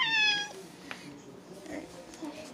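A house cat lets out a single drawn-out meow at close range, followed by soft rustling and faint room noise with a fainter meow later on.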